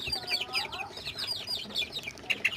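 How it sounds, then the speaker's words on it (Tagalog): Three-week-old chicks peep and cluck in a steady chorus of high, overlapping calls, with several small birds chirping continuously and close by, no talking. "Ito, sisiw natin 3 weeks."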